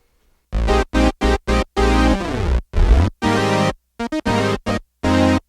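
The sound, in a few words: Roland Fantom synth with modelled Juno chorus effect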